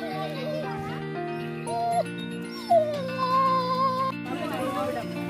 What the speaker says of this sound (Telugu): ఇక్కడ చూడండి డాగ్ లేచినాయి, ఇప్పుడు నిద్ర లేచినాయి.